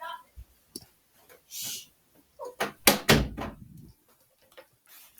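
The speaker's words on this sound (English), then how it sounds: "Excuse me, I need to close my door." A door is shut with a few clicks and a firm thud near the middle, surrounded by brief shuffling and handling noises in an otherwise quiet room.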